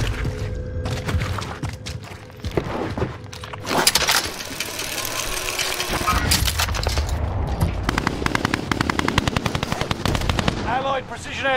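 Project Reality combat gameplay with loud, close gunfire: scattered single shots give way to long rapid machine-gun bursts, plus a heavy blast and engine rumble, with brief voices over the battle.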